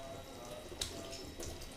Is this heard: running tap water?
yes